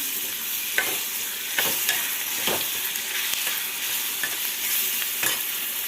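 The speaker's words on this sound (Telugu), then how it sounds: "టమాటా ముక్కలు వేసుకుందాం బాగా ఫ్రై చేసుకుందాం" Onion and tomato pieces fry with salt in a pan for a ridge gourd curry, giving a steady close sizzle broken by sharp spoon clinks and scrapes as they are stirred.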